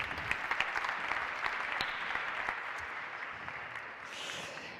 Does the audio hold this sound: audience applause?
yes